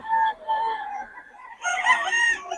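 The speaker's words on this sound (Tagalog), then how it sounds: "Ang daming manok." Roosters crow and chickens cluck in a crowded flock at a poultry place in Bocaue, with a couple of crows following clucking, fairly close and alone.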